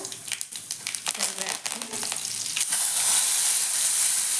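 Garlic and cumin seeds frying in hot oil in a pan: a brief crackly stirring gives way to a loud, steady hissing sizzle that fills the close sound.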